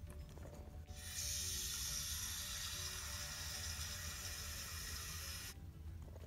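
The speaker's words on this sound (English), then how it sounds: "So let's fill this with water." Steady rush of water from a tap filling a small toy kettle, starting abruptly, running strongly for several seconds close by, then cutting off.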